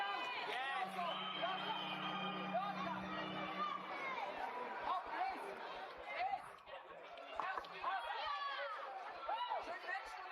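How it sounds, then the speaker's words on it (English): A crowd chatters and cheers at an obstacle course competition stage, with a coach shouting encouragement amid excited whoops and overlapping voices, plus a sustained tone early on, all fairly distant and continuous. "You can tell her coach is excited for her, cheering her on"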